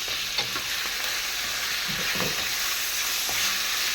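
Onion and vegetables frying in a pan for a simple vegetable dish, a steady broadband sizzle with a few soft stirring scrapes, close and continuous, with no talking.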